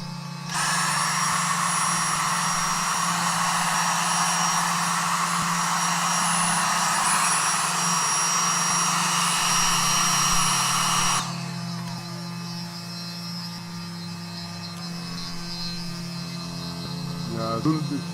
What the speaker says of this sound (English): Let me vacuum it clean.